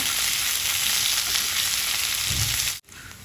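Tomatoes and onions with salt sauté in a pan for a Kerala-style chutney, giving a loud, steady, hissing sizzle that cuts out sharply near the end and then resumes more faintly.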